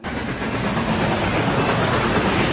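A train rolls steadily in a movie scene, a loud continuous rumble with hiss and faint rail clatter that holds unbroken throughout, with no talk over it.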